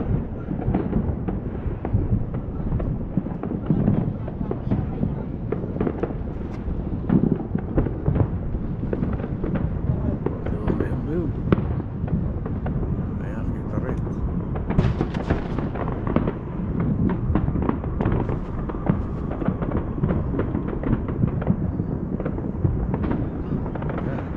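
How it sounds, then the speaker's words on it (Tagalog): Fireworks and firecrackers go off continuously in a neighbourhood celebration, a loud, dense crackle of rapid pops and booms with no pause for the whole stretch. "Magandang fireworks kayo. Magandang fireworks."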